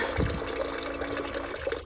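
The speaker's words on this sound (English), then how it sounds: "when I turn it on, it pumps my water" A small electric pump draws from a 3.5 gallon water tank in a pottery studio, giving a steady, close gush of running water with a faint mechanical hum beneath.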